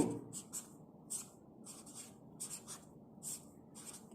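Quiet pen or chalk strokes scratch out writing during a math class, a series of soft, close, irregular scribbles with brief gaps between them.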